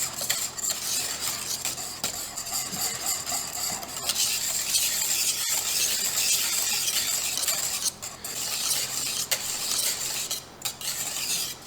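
A whisk scrapes steadily around a pot of Hatch New Mexico red chile sauce thinned with caldo, making a continuous close-up rasping stir with occasional sharper clicks.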